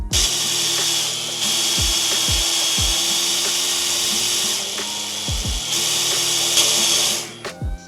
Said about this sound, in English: I just drill into my table.